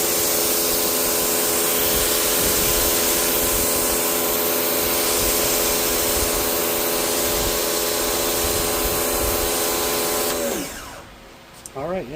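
A YERYORK budget electric pressure washer, about $100, rinses away biodegradable foam. It gives a steady whining motor drone with a hissing spray for about ten seconds, then cuts off abruptly.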